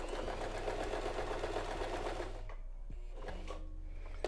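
A sewing machine stitches a straight seam through fabric with no backstitch, giving a fast, close mechanical whir that runs steadily and then breaks into a few slower, separate stitch bursts.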